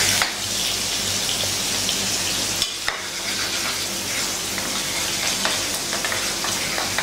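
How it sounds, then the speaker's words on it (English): Romney Marsh lamb simmering with a knob of butter in a pan, a dense, steady, close sizzle and spatter like heavy rain, with a brief knock near the middle and no talking. "then we're going to hit that with a knob of butter as well. Okay, and just let that simmer away slowly"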